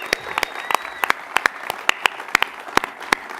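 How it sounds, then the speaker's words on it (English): Audience applause at a country music awards nominees announcement, a sustained wash of many hands clapping with sharp individual claps standing out, fairly close and steady throughout. "Come on, make some more noise, Tori."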